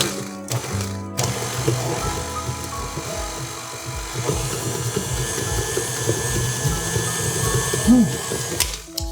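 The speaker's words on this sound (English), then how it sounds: "And we're going to stir this in." Chopped apple is stirred into cookie dough for apple cider cookies. The sound is a close, continuous churning and grinding that runs unbroken, with no talking.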